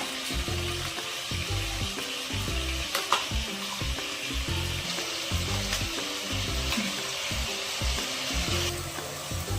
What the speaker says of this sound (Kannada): ಹಸಿ ವಾಸನೆ ಹೋಗೋವರೆಗೂ ಫ್ರೈ ಮಾಡ್ಕೊಳ್ಳೋಣ